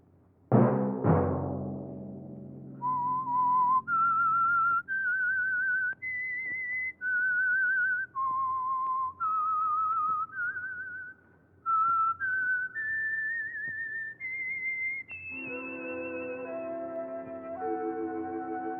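A clear whistled signal tune for an old radio mystery program: a sequence of sustained notes stepping up and down, each held about a second with short gaps, then a lower orchestral chord underneath near the end.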